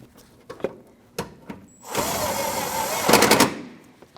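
A power driver runs an 8mm fender bolt into a 2014-2023 Jeep Cherokee during headlight replacement: a few light clicks and taps, then a loud sustained whir ending in a rapid ratcheting burst, close by.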